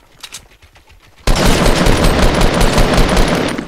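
Gunfire in Fortnite Battle Royale: after a second of faint clicking, a loud burst of rapid automatic fire starts suddenly and keeps going dense and close to the end.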